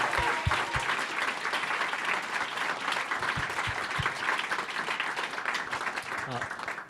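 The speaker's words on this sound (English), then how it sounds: "Can I ask us to start with a round of applause for our first panel," Audience at an arts panel discussion breaks into sustained applause, a dense steady wash of clapping from a room full of people with a few louder close claps, lasting several seconds before tapering off.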